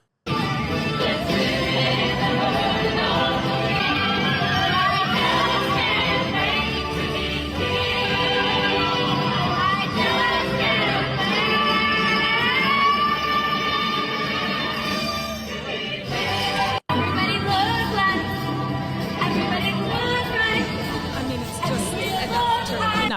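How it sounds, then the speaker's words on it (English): A child singing at a concert, captured on a phone: loud, distorted, continuous singing with music and crowd noise, harsh and compressed, with a brief dropout near the end. "it's just a kid singing like they would at home"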